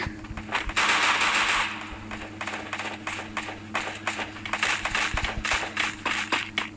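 Rapid automatic gunfire crackles loudly in a video game, coming in dense bursts with short pauses between them, and no one speaks.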